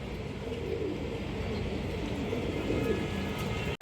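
Pigeons cooing among caged birds offered for sale, soft repeated low coos under a steady background murmur, ending in a brief handling bump.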